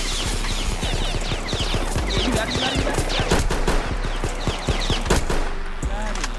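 Rapid gunfire in a Roblox hood roleplay game, dense bursts of sharp cracking shots fired in quick succession, loud and close throughout, with a voice talking at times over the shooting.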